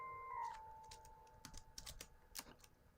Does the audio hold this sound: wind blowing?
no